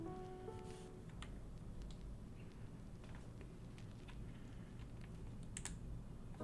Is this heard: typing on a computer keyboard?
yes